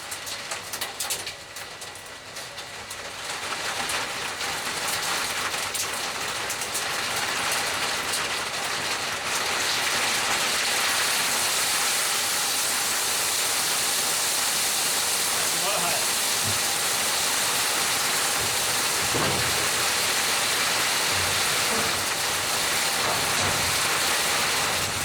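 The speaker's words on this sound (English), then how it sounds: "Yeah, it's a little bit of hail." Hail patters steadily on a roof or outdoor surface, a dense continuous hiss of small impacts that starts softer and grows louder after a few seconds, with a few sharper knocks, outside a guitar-making workshop.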